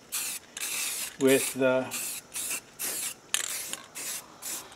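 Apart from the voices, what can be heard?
spray painting a Jimmy with sand-colored base coat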